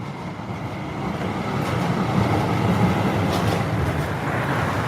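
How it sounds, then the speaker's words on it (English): A tram pulls away along a street in Krakow's former ghetto area, a steady loud rumble of wheels on rail with rising noise, heard nearby in open city air. "And the next tram leaving the former territory of Ghetto."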